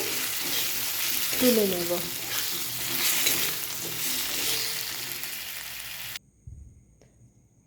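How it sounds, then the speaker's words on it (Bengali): Potatoes frying in hot oil in a home kitchen, a steady close sizzle with stirring scrapes, a brief spoken phrase partway through, then the sizzling cuts off abruptly near the end. "আলুগুলি আমার ফ্রাই হয়ে গেছে"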